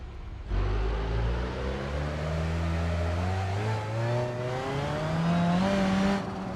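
A car engine revs up steadily from a low rumble to a higher pitch, loud and close, with no talking.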